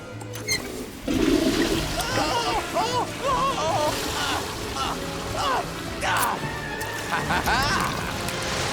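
A toilet flush from an animated film, a rushing, sloshing swirl of water rising suddenly and churning steadily, with animated characters talking over it throughout.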